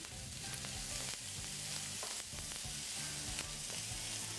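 Diced ham and chopped chives sauté gently in a pan over low heat, giving a steady, close sizzle with light scraping from stirring throughout.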